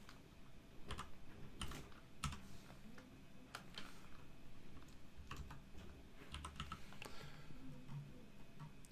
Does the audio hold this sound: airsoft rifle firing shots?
no